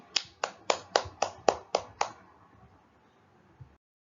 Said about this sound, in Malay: sila tepuk tangan untuk diri sendiri